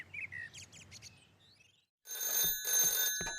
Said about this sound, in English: the phone rang in Pat's house